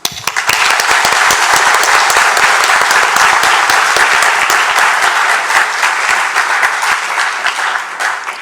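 A graduation ceremony audience at Shiva Boys Hindu College in 2024 gives a loud, sustained round of dense applause that runs the full length without any speech.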